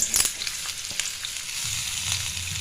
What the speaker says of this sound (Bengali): আর এবার তেলে একটু ভেজে নিই।